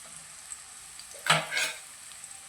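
Potato fry with chopped green chillies is stirred in a pan, a brief burst of sizzling and scraping midway through, over a faint steady background hiss.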